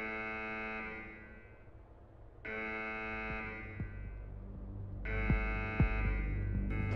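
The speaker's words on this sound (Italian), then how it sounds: "Ho attivato l'allarme." A harsh buzzing alarm in the Escape from Tarkov bunker sounds in long repeated blasts separated by short gaps, loud over a low mechanical rumble with a few thuds.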